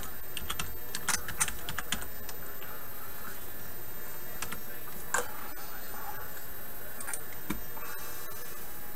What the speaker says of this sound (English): gonna type up